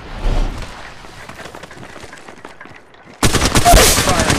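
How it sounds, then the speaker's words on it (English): Gunfire in Apex Legends Mobile, with loud rapid bursts of shots rattling under and between talk, then a dense sustained volley that ends the clip. "Firing. Making contact here."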